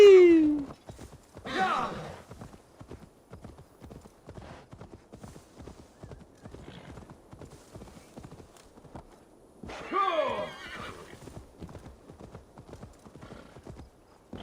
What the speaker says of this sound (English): Summon the horsey.